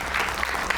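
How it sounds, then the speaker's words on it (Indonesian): Television studio audience clapping during an Indonesian talk show, a brief, moderately loud burst of dense applause with no voices over it. "Kita berikan tepuk tangan."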